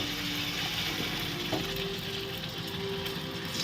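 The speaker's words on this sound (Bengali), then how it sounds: "আমরা যে মাংসটা ফ্রাই করে রেখেছিলাম সেই মাংসটা আমরা দিয়ে দিচ্ছি।" Fried chicken pieces drop into a butter and garlic pan, raising a dense, even sizzle with a faint stir partway through and no talking.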